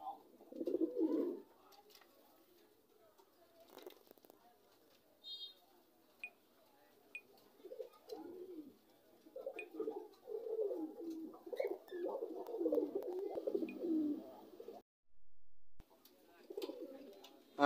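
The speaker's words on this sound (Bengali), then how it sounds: "আপনারা এখন যে কবুতরটি দেখতে পাচ্ছেন এটি হচ্ছে একটি মাক্সি হোমা" Homer pigeons cooing in a loft, repeated low throaty coos in several bursts, fairly close and moderately loud, with quiet gaps and a brief electronic beep between them.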